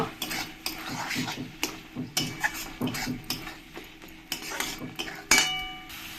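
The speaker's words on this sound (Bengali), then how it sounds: "এবার মশলাটাকে একবার ভালো করে নেড়ে দেব" A spoon scrapes and knocks against a pan while masala spice paste is stirred for a spicy Bhola fish curry, giving a run of close, irregular clinks and scrapes with a louder metallic clang near the end and a faint sizzle underneath.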